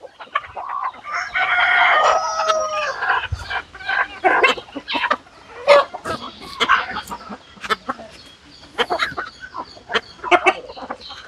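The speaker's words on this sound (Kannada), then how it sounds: "ನೋಡಿ ಎಲ್ಲ ಕಡೆ ಹೋಗಿದೆ ಕೋಳಿಗಳು." Free-range native country chickens on an open farm cluck and chatter steadily, with a rooster crowing near the start; many birds call at once, close and busy, with no talk.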